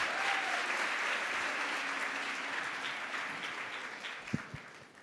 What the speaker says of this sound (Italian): Quindi fate un altro applauso per Giuseppe